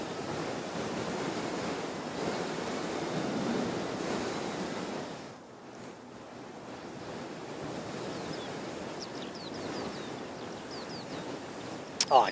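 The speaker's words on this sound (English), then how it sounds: "This wind is ridiculous." Strong wind roars and buffets a microphone at Christchurch Airport, a steady broadband rush that dips briefly midway before building again, with faint bird chirps and a sharp knock near the end.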